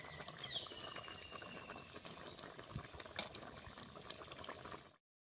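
Fish curry with drumstick leaves bubbles in a pot, a faint, steady simmering patter and soft popping that runs evenly before cutting off abruptly.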